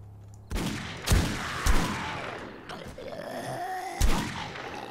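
A powerful gun fires at night in the video game 7 Days to Die (Alpha 17.2, BorderlandZ): several heavy, booming shots spaced about half a second to a second apart, with ringing tails and a faint groan between them.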